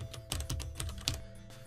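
Keys clatter on a computer keyboard during data entry in a business reporting program, a quick uneven run of close, crisp clicks with a few firmer strikes, heard alone without speech.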